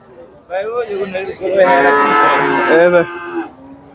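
A large cow moos in long, loud, drawn-out calls at the busy Chandaikona cattle market in Sirajganj, with faint voices of people in the background.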